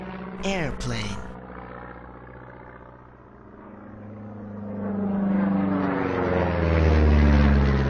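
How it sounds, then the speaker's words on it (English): After a brief voice, an airplane engine roars, starting low and swelling steadily louder as it draws near. "Airplane."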